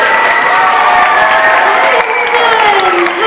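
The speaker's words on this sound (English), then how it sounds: "so let's give her a round of applause." At a lower school holiday concert in Ponte Vedra Beach, an audience claps and cheers loudly and close up, with bright whoops and a ringing tone running through the ovation.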